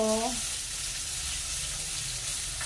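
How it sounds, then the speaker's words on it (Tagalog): Garlic and onion sautéing in a pan for tilapia sarsyado, a continuous soft sizzle heard close and fairly quiet, with a brief voice at the very start. "Gigisa na natin yung bawang, sibuyas."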